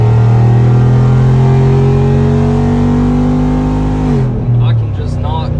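Jeep Wrangler Rubicon 392 cruising along a Tennessee back road at about 45 mph, its engine a loud steady drone close by that shifts and eases toward the end.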